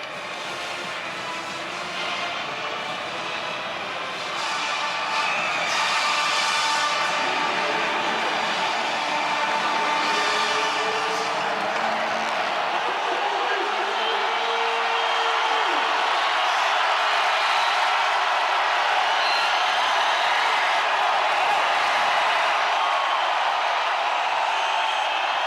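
Football stadium crowd at a Navy versus North Texas college game, roaring on a fourth down near the goal line: a dense, sustained wall of cheering and noise that swells after the first few seconds and holds loud throughout.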